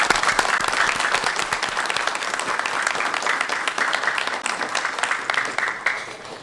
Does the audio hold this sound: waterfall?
no